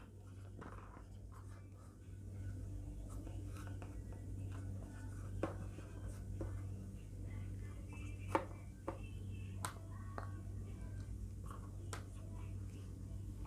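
Chalk or marker writing fractions on a board, soft scratching strokes with occasional sharp taps, faint and intermittent beneath a low steady hum and quiet voice.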